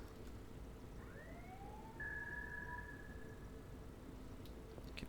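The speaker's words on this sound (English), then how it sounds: "We're hearing the sirens of the ships above." Ship sirens wail faintly from the surface above a submarine in the naval game Silent Hunter IV, two rising tones that hold and fade over a steady low rumble of the sea.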